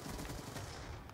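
Rapid gunfire from Call of Duty: Black Ops 2 multiplayer, a dense, continuous burst of shots that fills the whole moment at steady loudness, with no talk over it.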